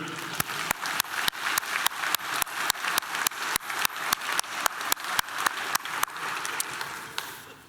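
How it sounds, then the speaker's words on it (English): Clapping at a city's 2022 State of the City event, meant as applause for elected officials, comes as a strong, regular rhythm of sharp claps close by over a softer wash of audience sound, fading out near the end. "I failed to give you the round of applause for our elected officials, so let's do it."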